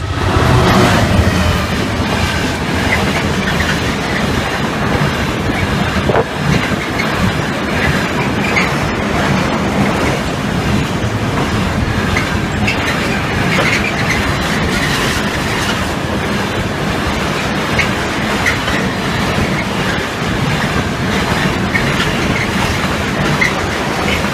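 A Freightliner Class 66 freight train passes Stow Park level crossing, giving a long, loud, steady rumble of wagons with rhythmic wheel clatter and faint squeal, close by and with no talking.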